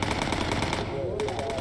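Quad .303 machine guns in the Bomber Crew video game hammer out rapid bursts of fire at a bomber, loud and continuous, with a brief dip in the racket midway before the rattling resumes.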